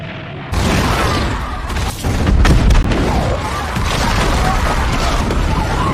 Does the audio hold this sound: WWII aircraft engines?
no